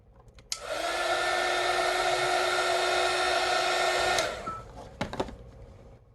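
A heat tool blows with a loud, steady whoosh for about four seconds while warming epoxy resin on a tumbler, then cuts off, followed by a couple of short clicks and handling noises.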